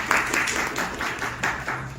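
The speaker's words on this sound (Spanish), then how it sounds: "ese es un aplauso por favor." Students in a biology classroom applaud together, a steady wash of clapping that swells and dips over about two seconds, with some voices mixed in.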